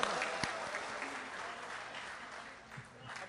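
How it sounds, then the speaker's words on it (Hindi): Crowd claps at an Indian mushaira poetry gathering, a fairly faint, diffuse applause with a few sharper individual claps and murmuring voices underneath. "तो एक बार सारे लोग मुझे तालियां बजाकर बताएं।"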